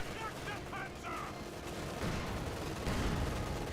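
Anti-tank rifles firing in Company of Heroes 2 during an Eastern Front battle, a dense rumble of gunfire and distant booms running continuously with no clear individual shots standing out.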